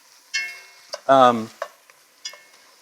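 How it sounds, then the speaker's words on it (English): Minced jarred garlic hits a hot pan with a brief sizzle, followed by a few short stirring scrapes and clinks, close and alone with no talk. "I'm using some garlic out of the jar minced, and we're just gonna put that in there for about a minute and let that cook around"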